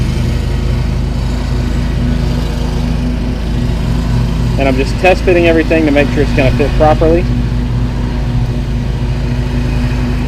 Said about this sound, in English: And they just started cutting grass, so sorry about the noise.